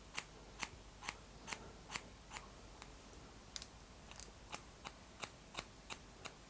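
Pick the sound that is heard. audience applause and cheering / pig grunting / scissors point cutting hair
scissors point cutting hair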